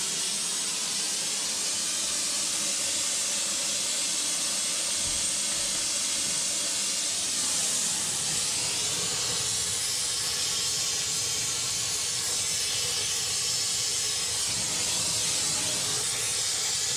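A gas torch hisses steadily and loudly for the whole stretch, heating seized parts on a 1997 Argo Conquest engine. No one talks over the continuous rushing sound.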